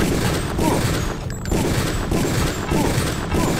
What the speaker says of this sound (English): Let's try to kill with a pistol.